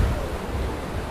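Sea waves crash on a beach at night in a steady, dense roar of surf, loud and close, with wind rushing over the microphone and no voices.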